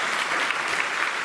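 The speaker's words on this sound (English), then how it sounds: "could all the judges stand up at once and just give a little round of applause?" Audience applause at a perfume awards ceremony as the judges stand, a steady dense wash of many hands clapping at moderate level throughout, no voices over it.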